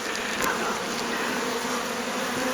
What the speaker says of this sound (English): It is just a solid wall of bees there. That's the Russians, and then here's the buckfasts.